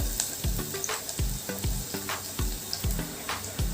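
Vegetables sautéing in a pan for a homemade soup, a steady sizzle punctuated by regular thumping spoon strokes, roughly two each second, close and clear with no talk.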